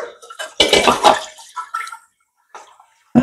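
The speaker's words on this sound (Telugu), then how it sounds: "నీళ్లు పోయాలి ముందు అందులో" Water pours in splashy bursts into a cooking vessel while an egg curry is prepared, a loud gush followed by quieter trickles and a short pause, then one more splash.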